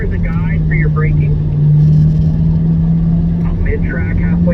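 Chevrolet C8 Corvette lapping a race track in third gear, a steady engine drone holding an even pitch throughout while an instructor talks over the radio on top of it.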